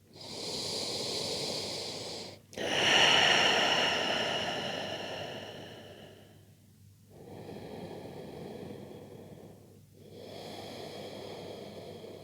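Slow, deep breaths during a yin yoga session before sleep, with long airy inhales and exhales through the nose, close and soft, separated by brief pauses, with no talking.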